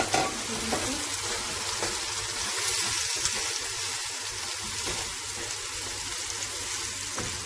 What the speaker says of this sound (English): Let's fry the onion and see what is